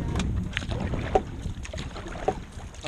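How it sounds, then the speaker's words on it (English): A sailboat setting up on the water before a kids' yacht club race gives off soft hull and water sounds under light wind, with faint knocks and rustles and no talking. "Sailboat setting up for a race"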